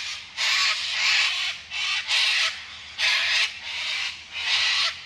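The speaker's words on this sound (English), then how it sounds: "The cockatoos are going so wild right now. It's so loud." Cockatoos screeching loudly outdoors in Sydney, a rapid series of harsh, raucous calls repeating in overlapping bursts with no talk.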